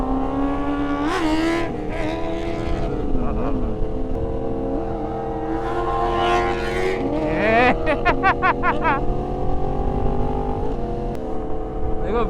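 A Kawasaki ZX-10R superbike ridden at speed, its engine droning steadily and rising through several revving gear shifts, with a burst of sharp rapid throttle blips near the end, loud and close throughout.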